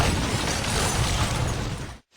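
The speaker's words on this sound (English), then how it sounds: "The explosion just a few feet away." A loud, dense roar of debris and rumble from a film explosion continues for about two seconds and then cuts off abruptly into silence.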